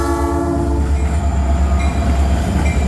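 Illinois Central freight locomotive 6263 rumbles in close and loud, a steady heavy engine drone with layered horn tones sounding over the rolling railcars.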